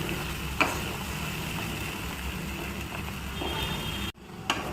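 Spice masala with cashews sizzling steadily as it is stirred and sautéed in a pan on a low flame, a continuous frying hiss with occasional stirring clinks, briefly cut off near the end.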